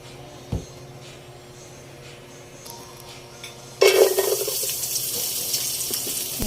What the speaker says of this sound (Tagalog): Yan, magigisa na muna.